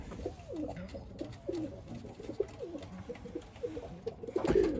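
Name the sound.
young tumbler pigeons cooing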